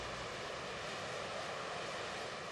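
A Harrier jet fighter-bomber, a close air support aircraft, gives off a steady broadband roar with no break or change, distant and moderately loud, filling the clip without any voices.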